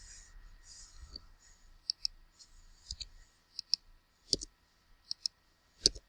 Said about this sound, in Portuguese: eu vou digitar aqui as letras